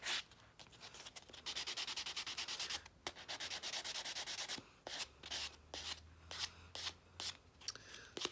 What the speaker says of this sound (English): So at least I remembered my buffing block.